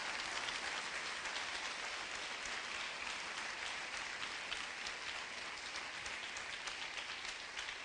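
A church congregation claps hard and fast in praise, a dense, even wash of applause that holds steady throughout at a moderate, somewhat distant level, with no talk over it.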